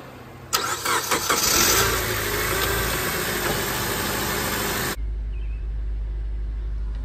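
A Honda Element engine cranks and catches after a brief silence, settles into a steady idle with a loud, broadband roar for several seconds, then drops abruptly to a low, constant hum, heard close with no talking.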